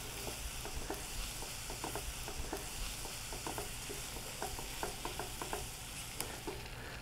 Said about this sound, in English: Simply stir it around so that the flour coats the vegetables and the ham here